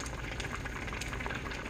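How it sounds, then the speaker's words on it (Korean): Aged kimchi stew bubbles and boils in a pot, a dense, steady simmering crackle heard up close without pause or speech. "여러분 부글부글 끓는 소리, 김치 묵은지"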